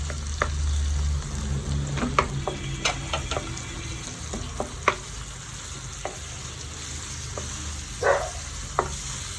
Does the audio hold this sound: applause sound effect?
no